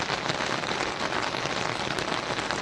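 Heavy rain pours down over farmland and hills near a temple in Gujarat, a dense, unbroken hiss of drops striking surfaces, loud and close throughout, with no voices.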